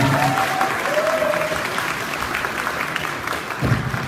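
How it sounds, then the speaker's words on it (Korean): Wedding guests applaud in a steady, dense burst of clapping that fills the room, loud and continuous throughout with a slight swell near the end. "힘찬 박수 부탁드립니다."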